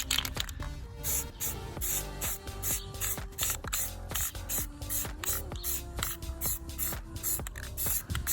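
Spray paint hisses onto a PC radiator in short, rapid, repeated bursts, quiet and close, with faint clicks from the can between sprays.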